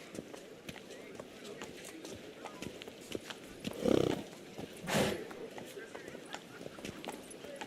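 Hooves of Roach, a horse in The Witcher video game, clip-clop at a steady running gait, close and moderately loud, with a couple of heavier thuds partway through.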